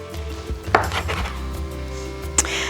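A knife cuts scone dough into quadrants on a board, giving a couple of distinct, close taps and clicks against the surface over a quiet room.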